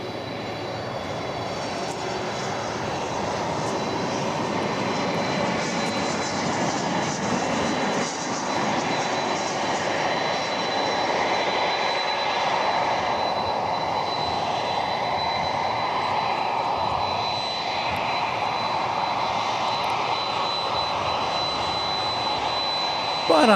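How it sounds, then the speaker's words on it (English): A Boeing 757 jet at DFW Airport gives a steady, loud engine roar that holds for over twenty seconds with a faint high whine on top and no talk. "That noise you hear is the 757 we saw a little bit ago come in."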